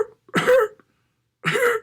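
A voice imitating a cough, two short, loud, rough coughing bursts separated by a pause of about a second, close to the mic.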